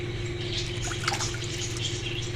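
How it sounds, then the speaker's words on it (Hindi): Two glasses of water poured into a cooking pot of fish curry being made with a thin broth, a steady soft splashing stream over a low background hum, close and alone. "मैं इसमें 2 गिलास पानी डाल रही हूँ"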